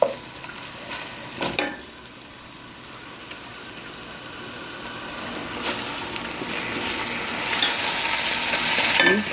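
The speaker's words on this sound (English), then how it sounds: "So now I'm going to put in my dandelion greens, which I chopped up." Chopped dandelion greens drop into a pot of vegan soup with a couple of sharp clatters early on, followed by soft bubbling and stirring that grows louder toward the end.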